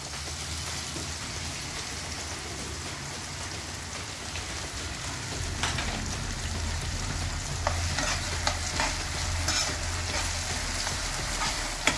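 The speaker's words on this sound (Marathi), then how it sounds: "आता कांदा टोमॅटो चांगले भाजलेले आहे, त्यात आपण आता डाळ घालून घ्या।" Lentils stirred into fried onion and tomato for a Marathi vaghatyachi bhaji, giving a steady sizzle and scraping stir that runs throughout, with a few sharper clicks of the spoon near the end; no one speaks.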